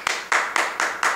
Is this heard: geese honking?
no